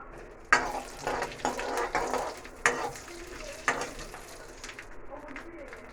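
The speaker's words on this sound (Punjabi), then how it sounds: "ਹੁਣ ਤੇਲ ਗਰਮ ਹੋ ਗਿਆ ਜੀ ਜੀਰਾ ਪਾ ਲਾਂਗੇ ਜੀ ਜੀਰਾ ਭੁੰਨਣ ਤੱਕ ਜੀ" Cumin seeds roasting in hot oil for tempered rice, a steady soft sizzle with intermittent sharp crackles and a few stirring clacks against the pan, close by.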